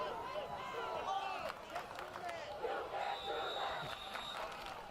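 Fans in the stands at a high school football game against Burlington keep up a continuous, fairly distant chant and crowd murmur, with occasional shouts and whistles rising above the din.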